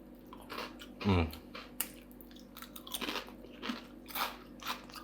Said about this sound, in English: I hope you can hear how crunchy and delicious that is.